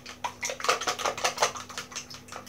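Rapid, rhythmic clinking of a whisk or fork beating eggs for an omelette in a bowl, steady and close, with no talking.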